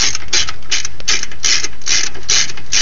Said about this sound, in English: Just go around with your wrench and tighten them all up